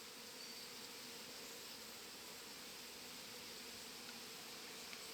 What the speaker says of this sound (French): Je ne vais pas déranger les abeilles plus longtemps, je vais refermer la ruche